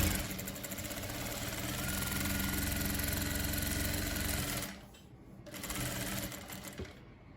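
A sewing machine stitches a dish towel in a steady, close mechanical whir that pauses briefly near the end as the cloth is turned with the needle down, then starts again.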